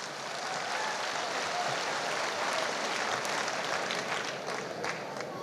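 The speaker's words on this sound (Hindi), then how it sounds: "एक बार जोरदार तालियां हमारे सभी गुरुजनों के लिए।" Audience applause for teachers at a stage event in a hall, a dense even wash of many hands clapping, sustained and fairly distant throughout.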